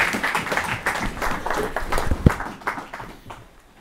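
A church congregation applauds in a burst of scattered clapping mixed with voices, the claps fairly close and loud before fading out over a few seconds.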